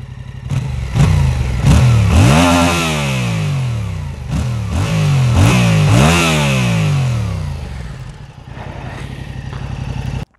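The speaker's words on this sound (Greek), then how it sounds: "Και για να ακούσουμε και λίγο τον ήχο από την εξάτμιση" Yamaha MT-07 motorcycle exhaust revving repeatedly, loud and close, with sharp rising and falling engine sweeps in a rhythmic series of blips, settling toward a steady idle at the end.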